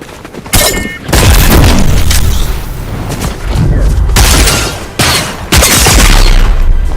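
Loud, heavy gunshots and booming impacts in Fortnite, with repeated dense bursts of firing separated by short gaps, close and forceful throughout.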